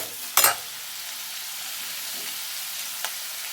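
Sambar ingredients fry in a pan with a soft, continuous hiss, broken by one brief scraping stir near the start and a faint tap later, with no voices.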